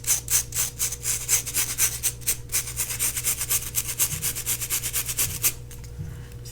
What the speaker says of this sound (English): Then I take my trusty brush and I just brush it out.